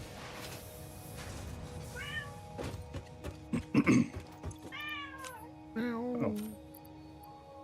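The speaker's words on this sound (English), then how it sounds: "I hear you, cat." A cat meows several times, wanting the window open. The rising, wavering calls are close and fairly clear, with a few thumps and a brief spoken word between them.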